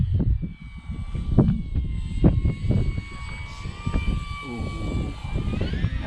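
A Dynam Cessna 188 RC model airplane, orange with a 1500mm wingspan, makes a low pass on its maiden flight. Its electric motor whines steadily, rising slightly in pitch near the end, over wind noise and some faint background sounds.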